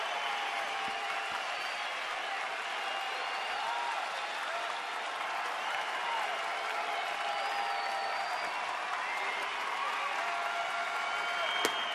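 A large baseball stadium crowd of over 14,000 at a tied Houston at Washington game, keeping up a steady roar of applause and cheering throughout, heard from a distance with no clear voices standing out.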